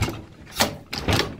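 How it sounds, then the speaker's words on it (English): An 1891 Otis manually controlled elevator's door is shut and clicks into its interlock, giving two short metallic clacks about half a second apart, close and fairly quiet. "Here it clicks in with the interlock."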